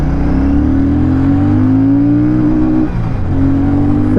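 A 2024 Royal Enfield Shotgun 650 twin-cylinder bobber motorcycle pulls hard in first gear, its loud close engine note climbing steadily, dipping briefly near the end, then rising again.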